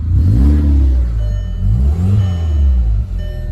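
Volkswagen MK4 GTI engine revving repeatedly, several rising and falling throttle blips in quick succession, close and loud with a deep exhaust tone, with no talking.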